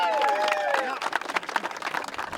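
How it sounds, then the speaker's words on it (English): A crowd applauds at an outdoor ceremony marking the opening of a new road. A brief whistle or cheer comes first, then scattered, moderately close claps continue for a couple of seconds. "another round of applause for this road being opened"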